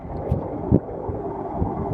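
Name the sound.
strong wind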